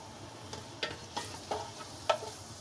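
Chopped onions start to fry in oil in a pan on a stovetop, a soft steady sizzle with a few brief clinks and stirring scrapes, close and moderately quiet, with no talking.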